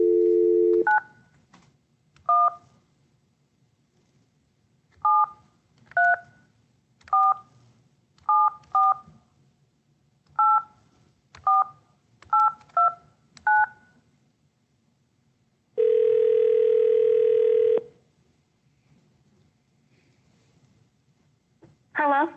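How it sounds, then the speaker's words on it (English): Telephone keypad dialing tones as a judge calls a participant: about fourteen short, clear DTMF beeps at irregular spacing, then a sustained steady tone of roughly two seconds and the start of another, no talking. "I'm going to try to get her on first, and then I'll patch you in, Mr. Rapley."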